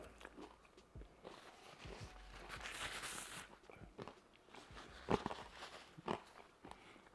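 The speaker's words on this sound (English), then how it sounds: "Still plenty crunchy." Bites into a big crunchy hot honey chicken sandwich, with a rustle of chewing and two sharp, close crunches standing out near the end, no talk.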